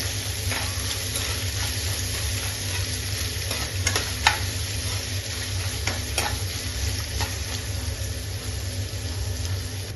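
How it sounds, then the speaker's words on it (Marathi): Finely chopped onion sautés in oil for kulthi pithla, a loud, even sizzle running throughout with occasional light stirring clicks and taps against the pan, no voices heard. "आता आपण ह्याच्यामध्ये बारीक चिरलेला कांदा कांदा पैकी परतून घेऊया"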